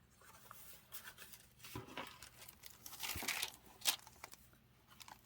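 Wax paper crinkles and rustles as it is handled inside a vintage home journal, soft close crackles arriving in short irregular bursts with no voices.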